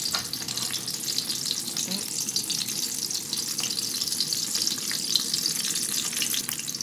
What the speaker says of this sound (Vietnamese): Các bạn chiên cho vàng hai mặt thì mình hết.